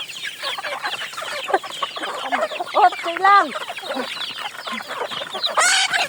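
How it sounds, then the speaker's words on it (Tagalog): Hens cluck busily and a rooster crows in a countryside yard, several birds calling close by and loud; a person speaks briefly among them. "Tingnan natin ang manok."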